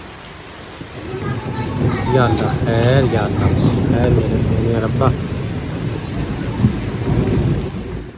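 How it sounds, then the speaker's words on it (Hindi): Heavy rain pours steadily and thunder rumbles through it, a loud, constant wash of noise while a person speaks anxiously over the storm. "अच्छी खासी बारिश जो है ना शुरू हो गई"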